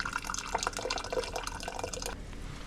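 Water pouring into a glass French press to preheat it before making coffee, a steady splashing trickle that runs close and moderately loud, then cuts off near the end.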